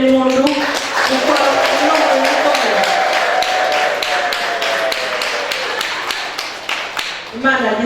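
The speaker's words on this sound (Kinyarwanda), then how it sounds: "munyemerere mufashe duhe Imana amashyi menshi ndetse n'impundu" Applause at a wedding: quick, evenly spaced claps fill the whole stretch, with sustained ululating voices trilling over them and swelling near the start and end.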